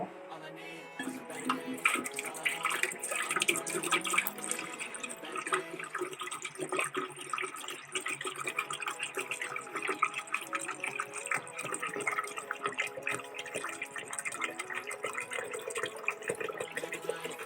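Water pours steadily into a Camel airpot thermos for a long stretch with a bright, splashy, gurgling texture, a continuous fill at moderate volume with faint clinks and movement mixed in.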